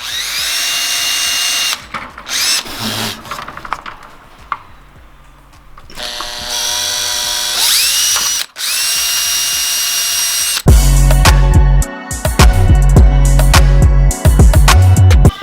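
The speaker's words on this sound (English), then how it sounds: "let's drill the two ends on first, and then we'll do the middle." Power drill driving into a car while side skirt extensions for a wide body kit are installed: repeated loud, close bursts of whirring drilling and ratcheting, separated by short pauses, with no voices heard.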